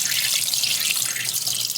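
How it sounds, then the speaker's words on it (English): Pre-rinse water poured out of a film developing tank, a steady close splashing rush of liquid that runs evenly and alone throughout. "I'm now ready to pour out my pre-rinse water"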